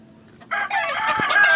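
Rooster crowing on a farm, a single loud close crow rising suddenly after a quiet moment and held to the end.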